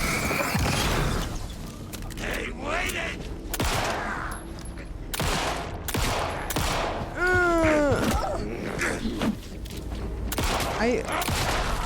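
Video game gunfire comes in sharp bursts and single shots, with loud cracks and rattling volleys mixed with mechanical clicks and game sounds, close and punchy, while a player talks over parts of it.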